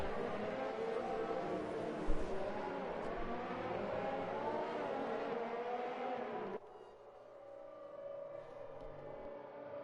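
Formula 1 race cars in a video game drive around the Paul Ricard circuit at the French Grand Prix, with a continuous layered engine whine that shifts partway through to a different, quieter car sound.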